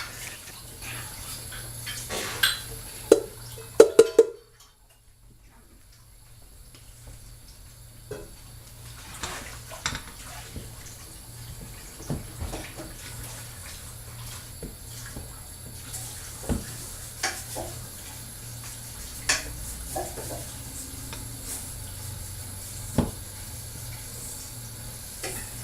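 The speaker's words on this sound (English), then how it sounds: "while you're mixing, you're scraping the sides and the bottom, so that way everything is incorporated" Ingredients mixed in a bowl with the sides and bottom scraped, giving intermittent scraping and clinking strokes at a moderate level, broken by a brief quiet pause early on.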